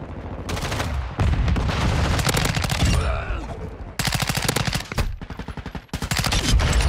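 Rapid automatic gunfire from the video game Modern Warfare 2 rattles in loud, dense bursts, broken by short gaps and reload pauses.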